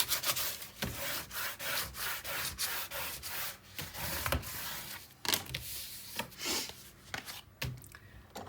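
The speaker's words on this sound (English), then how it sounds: "Okay, another gentle pull, then straight down, and now we'll burnish." Paper being burnished while a scrapbook album is assembled, giving repeated firm rubbing and scraping strokes, close and fairly loud, in a steady back-and-forth rhythm with brief pauses between passes and no voices.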